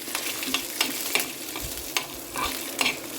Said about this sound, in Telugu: ఇప్పుడు జీలకర్ర జీలకర్ర తొందరగా ఫ్రై అవుతుంది